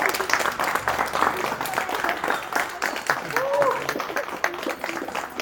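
An audience at an event claps in scattered bursts, moderately loud and uneven, with a voice talking over the applause.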